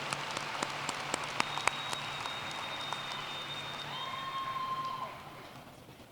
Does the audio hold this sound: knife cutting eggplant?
no